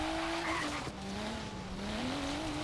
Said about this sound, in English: See if we can get a good drift going in the BMW